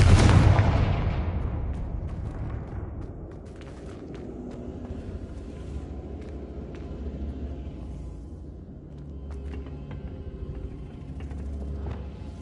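The Confringo blasting spell in Hogwarts Legacy sets off one loud explosive boom at the start, decaying into a long low rumble with scattered crackles and faint debris clatter.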